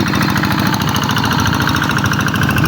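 A loud, steady engine chugging with a rapid rhythmic knock, running continuously at close range without letting up.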